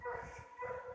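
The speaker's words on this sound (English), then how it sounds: "the dogs now are being very noisy" Hound dogs barking and yipping in neighbours' kennels, faint and distant, a few scattered barks over a steady background murmur.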